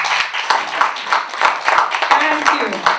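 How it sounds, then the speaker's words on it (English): A symposium audience applauds a panel, a steady wash of many hands clapping in a hall, moderately loud and sustained for a few seconds without speech. "A bigger clap"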